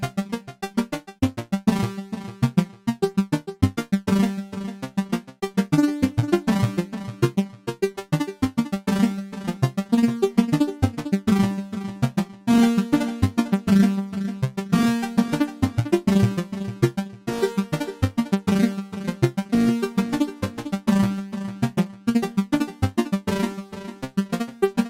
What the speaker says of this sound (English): we get this kind of really interesting glitchy effect as the sequence plays through